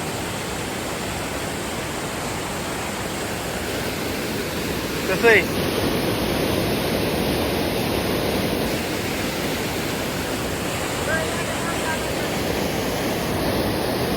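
Broad, steady rushing of water along the Sina river, a constant wash filling the scene, with a brief voice speaking near the middle and a faint high tone on and off.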